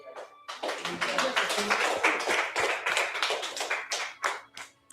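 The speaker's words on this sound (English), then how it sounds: "you guys all deserve a round of applause." A round of applause for art competitors after brushes go down, sharp close hand claps in a quick irregular burst, fairly loud, with some talk underneath.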